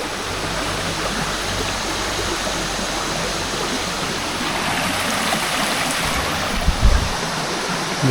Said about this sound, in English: I guess they're calling this a waterfall